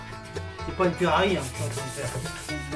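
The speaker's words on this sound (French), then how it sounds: "Le ponçage sec est terminé, on va attaquer le ponçage à l'eau" Wet sanding with 500-grit sandpaper and water on a motorcycle part: steady, close rubbing strokes that swell in the middle, with someone talking over them.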